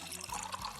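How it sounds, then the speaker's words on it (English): Kurinji single malt whisky from Bangalore pouring from the bottle into a glass, a faint, brief liquid trickle and splash. "The first pour of Kurinji single malt whiskey."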